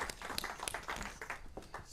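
Audience applause welcoming guests at a Griffith Observatory public astronomy show, a quiet, fairly distant patter of many hands clapping unevenly with no talk.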